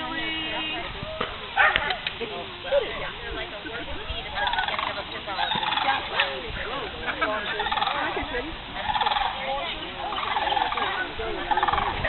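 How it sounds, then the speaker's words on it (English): A sandhill crane outdoors gives repeated rattling, gobble-like calls in bursts, moderately loud, while people talk over and between the calls. "Sand crane"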